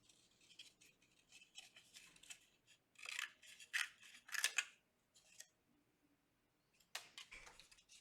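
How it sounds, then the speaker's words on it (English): Scissors snipping through a paper plate during a craft, a string of quiet crisp cuts in irregular clusters, close up with no talk. "I could take my scissors, find a good spot, and just cut off the part that I don't want"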